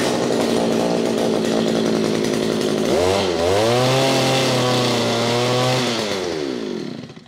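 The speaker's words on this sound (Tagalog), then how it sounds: "Testingin ko na yung earth auger na to" A gasoline earth auger for digging soil runs loud and steady, its two-stroke engine revving up and settling into a sustained high buzz before winding down near the end.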